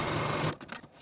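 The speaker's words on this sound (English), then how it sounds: "I'm going to continue my stitching line straight down the sides of the pocket" A sewing machine runs a straight stitching line down the sides of a trouser pocket, a loud, close whir that stops abruptly halfway through.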